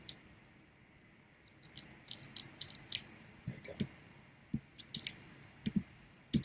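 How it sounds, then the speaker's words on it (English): Typing on a computer keyboard, sparse, soft clicks and taps in uneven clusters, faint and close, with gaps between bursts and no voices. "the noise that it makes when I'm typing"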